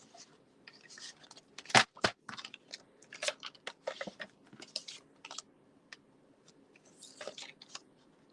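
Paper being cut for a handmade folded birthday card, a series of quiet, sharp snips and crisp rustles at close range with irregular gaps, alone in an otherwise quiet room.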